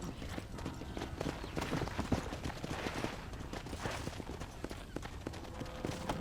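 Rapid clip-clop of horse hooves trotting over ground in the video game Red Dead Redemption, steady and fairly quiet, with a dense busy background and no talking.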